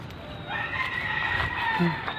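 Chickens on a farm cluck and call in a short moment, with a drawn-out rooster-like crow rising near the middle over soft outdoor background noise.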